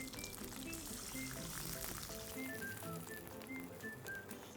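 Water is poured into a pot of browned beef brisket and oil while making doenjang stew, a steady close splashing pour that runs on without a break, with no talking over it.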